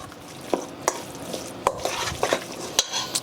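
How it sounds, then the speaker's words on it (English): A mixture being stirred by hand in a bowl: irregular scraping strokes and light utensil clinks, close and moderately loud, with no talking. "we're just going to kind of mix that together"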